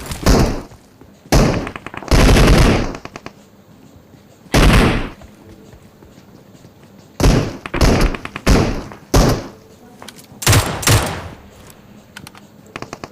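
Loud broadband bursts of gunfire in PUBG Mobile, several single shots and short rapid volleys with pauses between, over a low steady background hum.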